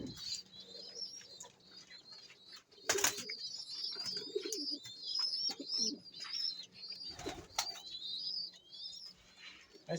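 Breeder pigeons in a loft coo softly, with scattered chirps and brief wing flaps breaking through at moments, all fairly faint and close.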